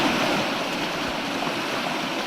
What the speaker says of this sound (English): Rushing water is a common scene in Calhoun County.